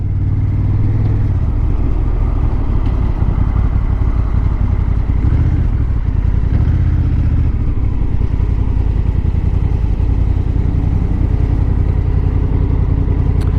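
A Honda NT1100 DCT motorcycle engine runs steadily and loudly throughout, a deep continuous rumble with slight mechanical clatter and no voices.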